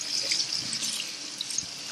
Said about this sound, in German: aber sofort mit etwas kaltem Wasser nachspülen